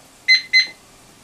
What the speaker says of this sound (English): And the timer's gone off